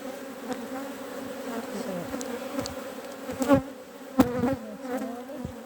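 Honeybees buzz steadily at an open hive in Ireland, a dense close hum with individual bees flying past the listener now and then.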